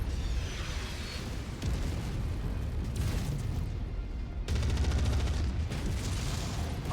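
Heavy explosions and booming blasts from artillery emplacements being destroyed in the MechWarrior 5: Mercenaries video game, a dense, continuous barrage of rumbling impacts with louder bursts partway through, no speech.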